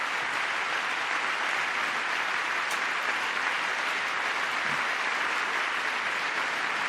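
A room full of people applauds in a dense, steady wash of clapping that holds evenly for several seconds without talk.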